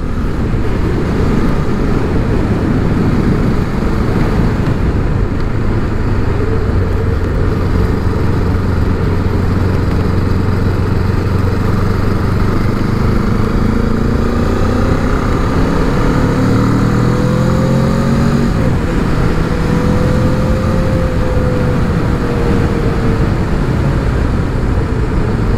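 A QJ Motor SRK 700 motorcycle at riding speed, its engine a steady drone through wind rush, with rising pitch sweeps as it accelerates and shifts through gears.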